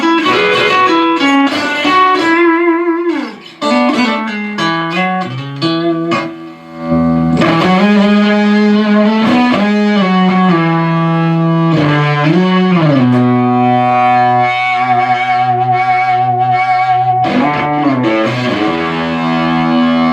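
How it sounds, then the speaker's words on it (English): Classic fuzz tones from an electric guitar through a fuzz pedal: loud, saturated sustained notes and bends with gliding pitch, played continuously and alone with no talking. "let me try and get some more classic type fuzz tones"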